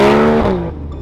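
A Chevrolet Camaro with a straight-pipe exhaust roars past close by, a loud harmonic engine note that drops in pitch as it goes and fades within a second.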